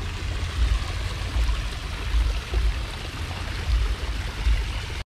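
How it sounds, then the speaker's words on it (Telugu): Natural hot spring water at Hot Springs, Arkansas pours down steadily from above, a continuous near rush with low rumbling surges and no voices. "పైనుంచి హాట్ వాటర్ వస్తున్నాయి"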